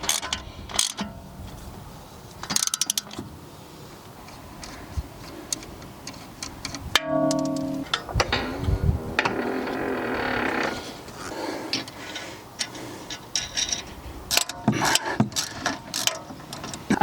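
Ratchet tightening a suspension bolt through its bracket on a BMW M140i during a Bilstein B8 and MMR spring install, giving bursts of close, rapid clicking with brief pauses and some clanks.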